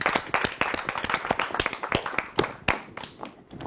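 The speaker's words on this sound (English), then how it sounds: "Let's give her a round of applause." Audience applause for a model at a school fashion show, brisk close clapping from a modest crowd with individual hand claps clearly audible, tapering off near the end.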